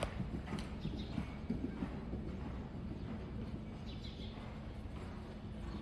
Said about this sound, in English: On the middle of the long side, do a 20-meter circle, transition to working trot.